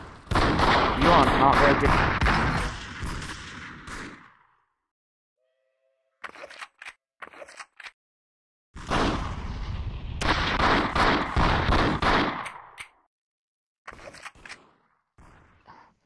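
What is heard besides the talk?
gunfire from the video game VRChat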